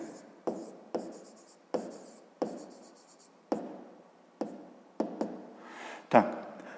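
Chalk or pen writing on a board or paper during a Ukrainian fifth-grade maths lesson, a series of sharp taps and short scratchy strokes spaced about every second, close and fairly quiet.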